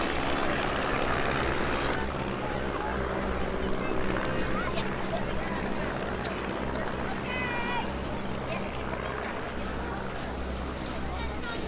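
Stampe biplane engines drone steadily during a formation manoeuvre at the Eastbourne Airshow, a sustained propeller hum under a commentator speaking over a loudspeaker.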